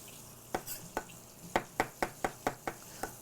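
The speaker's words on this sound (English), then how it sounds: "So I'm going to chop them up right here." Mushrooms being chopped with a knife on a cutting board: about eight crisp, close strikes, loosely spaced at first and then in a quicker steady rhythm, with no voices.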